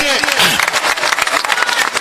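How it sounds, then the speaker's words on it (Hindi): A crowd at a Congress political rally in Shahpur, Betul district, claps loudly in uneven bursts, with a voice talking over the applause at the start. "जोरदार तालियों से हार्दिक अभिनंदन कीजिए, स्वागत कीजिए"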